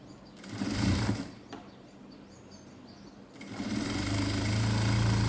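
A sewing machine runs a patti seam through fabric in bursts: a short close run, a pause, then a longer steady stretch of rapid stitching.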